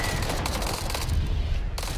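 Rapid, continuous gunfire from a mounted gun in the Earthfall video game, dense repeated shots rattling steadily and close, with a brief gap toward the end before firing resumes.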